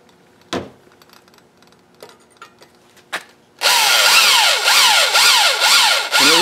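A power drill bites into material with oil on the bit, preceded by a few faint clicks and taps, then a loud whirring grind that rises and dips in repeated waves as it bores.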